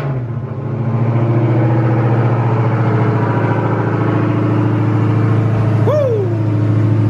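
Dodge Hellcat Challenger or Charger supercharged V8 at cold start: a sharp catch and flare, then a steady loud rumbling idle with a quick blip near the end, close by and with no talk.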